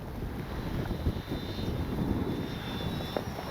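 Avios Twin Otter RC model plane flying in strong wind: a steady, thin engine whine drifts overhead, partly masked by constant rushing wind noise on the microphone, with no voices.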